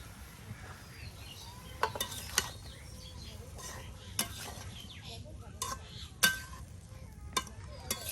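Vegetables cooking with sautéed spices in a pan, with a soft continuous sizzle and scattered sharp clinks and scrapes of a utensil stirring against the pan, quiet and close.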